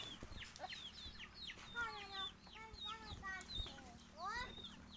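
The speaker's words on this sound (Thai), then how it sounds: "ไก่ไก่มันน่าจะกินข้าวแล้วเนาะ" Farmyard chickens cluck in a busy, overlapping chorus of short rising and falling calls, steady and fairly close throughout.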